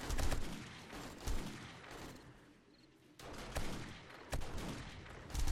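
A Desert Eagle pistol fires in the survival game 7 Days to Die during a horde night, with scattered heavy shots and bursts of gunfire. The shots come in uneven clusters with a short lull in the middle, fairly faint overall.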